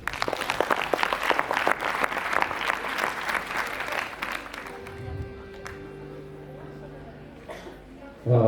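Loud, dense applause from an audience at a school cultural and literary festival fills the first half, then fades out as a tonal hum lingers and a short voice sound follows.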